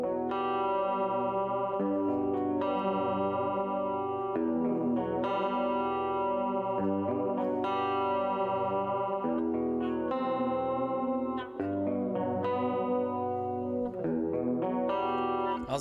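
Instrumental music track with layered chords processed through effects such as distortion, chorus and echo, playing steadily and loudly throughout with no voices.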